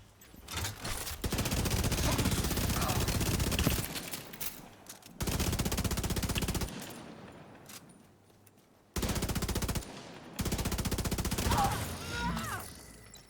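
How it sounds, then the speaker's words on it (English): Scorpio weapon gunfire in a video game: long sustained bursts of rapid automatic fire come in three loud blocks separated by brief pauses, with a faint explosion-like whoosh near the end. "Gonna shoot it with the Scorpio just to get some more stacks than I would"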